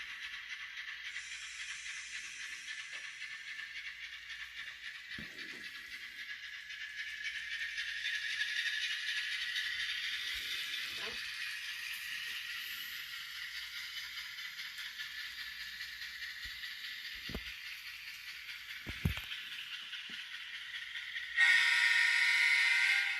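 Kato ES44AC GEVO model locomotive in Union Pacific livery fitted with ESU LokSound decoder, running with a steady hissing, rattling diesel sound and a brief horn-like tone near the end, continuous and fairly close.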